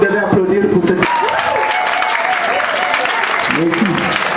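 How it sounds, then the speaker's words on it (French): Audience applause at a school ceremony launching an orphan-aid foundation: a broad wash of clapping from a crowd fills the middle of the clip, with a voice talking over it at the start and end. "Je crois que vous devez applaudir pour cette..."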